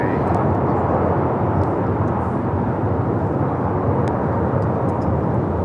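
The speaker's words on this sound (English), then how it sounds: "Japan Airlines Flight 15 taking off to Tokyo Haneda on the A350 1000" A Japan Airlines Airbus A350-1000 takes off from LAX for Tokyo Haneda, producing a dense, steady engine roar that stays loud and unbroken throughout.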